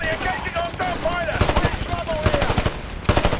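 Rapid bursts of automatic gunfire crackle in a Titanfall multiplayer match, with sharp repeated shots clustering in quick volleys. Faint game voices and tones sit underneath.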